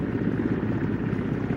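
Steady, loud helicopter rotor and engine roar from a military helicopter hovering over a rooftop during an Indian Air Force firepower demonstration, a continuous dense drone with no pauses.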